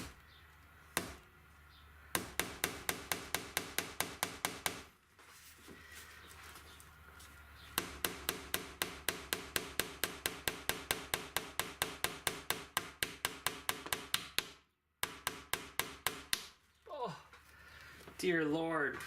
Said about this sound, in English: I'm gonna put a nail in there just to tie that in